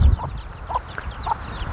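A chicken clucking in short repeated bursts, three or four evenly spaced calls close by, over a steady rush of strong wind from a storm in rural Thailand.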